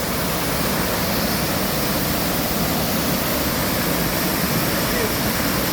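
Ibom waterfall at Arochukwu pours out of rock in a loud, steady broadband rush that fills the whole stretch without a break, up close and constant.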